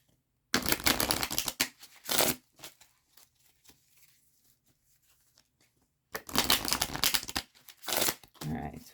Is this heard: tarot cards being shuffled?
yes